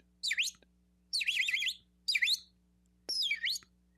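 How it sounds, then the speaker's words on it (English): Four bursts of high, sweeping bird chirps and calls, each lasting about half a second to a second with short silent gaps between, heard fairly close over a faint steady hum. "We hear birds."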